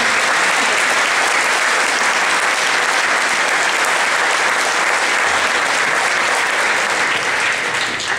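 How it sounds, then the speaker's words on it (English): A graduation ceremony audience gives a loud, steady round of applause for student speakers, dense and sustained for the whole stretch without letting up. "Let's give them a round of applause for their"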